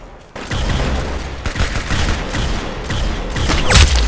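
Gunfire in the Roblox shooter Arsenal rings out as continuous rapid bursts, loud and close, with a deep boom near the end.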